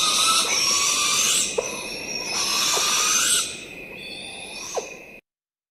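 Owl chicks beg for food with repeated harsh, hissing screeches, several long rasping calls in a row with brief gaps, loud and close.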